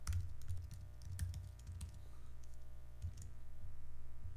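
Code is typed on a computer keyboard during a Bayesian inference programming tutorial, with quiet, irregular key clicks in short bursts over a steady low hum.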